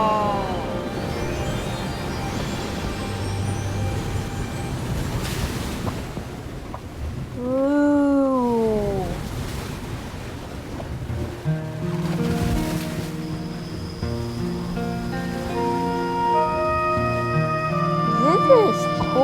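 Ocean surf rolls continuously along a beach in a bird video game, mixed with game music and a bird call, while a voice talks over it.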